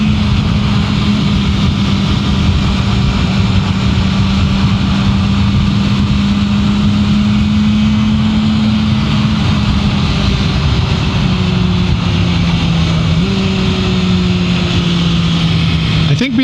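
A 2024 BMW M1000R sport motorcycle with the M Competition Package pulls from a launch, its engine droning steadily and loud with a slowly rising then dropping pitch and a shift near the end, over rushing wind and talk.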